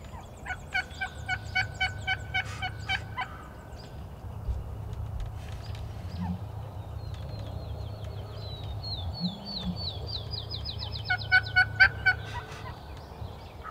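Wild turkey hens calling in a series of rapid yelps and clucks, with a gobble rolling through, moderately distant outdoors over a steady low hum, bursts returning near the end.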